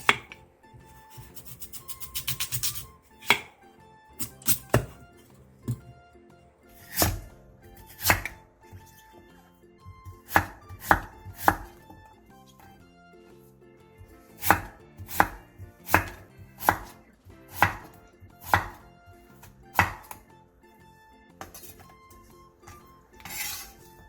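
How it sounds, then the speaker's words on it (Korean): A small radish sliced into thin bite-sized pieces on a cutting board, heard as a series of sharp, close knife chops in irregular bursts with short pauses between them, and no voices. "무 작은 사이즈 1개를 먹기 좋은 크기로 나박나박하게 썰어주세요."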